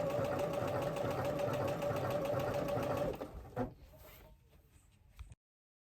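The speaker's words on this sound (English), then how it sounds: "good gosh, sewing machine, must you?" A sewing machine runs steadily, stitching a 3/8 inch seam allowance on a crossback summer top. The close, continuous motor whir lasts about three seconds, then stops, followed by a few faint handling clicks.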